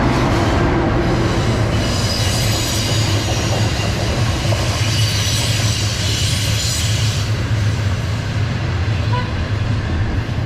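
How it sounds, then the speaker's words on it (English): A train rolls past close by, a steady loud rumble of railcars and wheels on track holding for the whole stretch, with faint squealing above the roar. "Hello, train."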